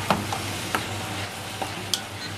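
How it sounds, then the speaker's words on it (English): Garlic sizzles in a pan with softened onions while being stirred, a steady close frying hiss broken by a few scraping clicks of the spoon. "We're going to add the garlic. Give it a good mix."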